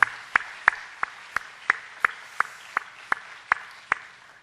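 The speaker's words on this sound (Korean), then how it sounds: "우리 잠깐 우리 박수로 한번 환영하겠습니다." Slow, sparse clapping in a church congregation welcoming guests, about a dozen distinct claps in a steady rhythm, crisp and close with quiet gaps between them and no talk.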